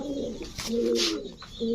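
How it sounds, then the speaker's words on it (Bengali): A pair of large White Prince pigeons cooing, short rising and falling throaty coos repeated close by, separated by brief flutters and rustles, fairly quiet. "এগুলো হচ্ছে প্রিন্স কবুতর, হোয়াইট প্রিন্স, বিশাল সাইজের কবুতর"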